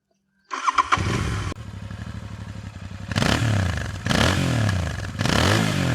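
A Royal Enfield Continental GT 650 motorcycle engine cranks and fires up, then idles with a steady putter before several loud revs rise and fall up close.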